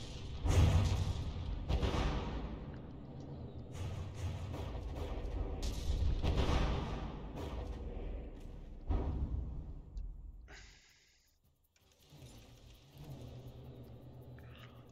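Naval artillery in the From The Depths warship game, with heavy booming gunfire and repeated blasts in dense close volleys, rumbling steadily and then dropping briefly to near silence before resuming.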